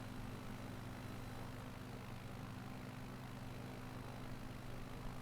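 A light propeller aircraft, a Shock Ultra bush plane flying slowly in a flight simulator game, gives off a steady low droning engine and propeller hum, continuous and even throughout with no voices.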